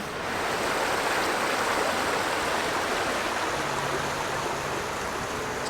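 A stream full of koi in Nagasaki city flows steadily with a dense, constant rushing wash of water, loud and unbroken throughout.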